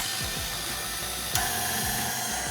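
Stand mixer kneading bread dough for hot cross buns, a steady close motor hum with a regular rhythmic clunk as the hook turns, heard alone.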